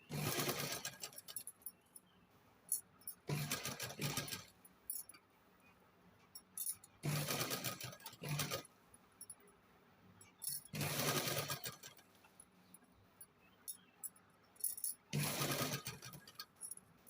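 Sewing machine stitching cloth in repeated bursts of rapid mechanical whirring, each lasting about a second or two, separated by quiet pauses with light handling clinks, close and fairly loud.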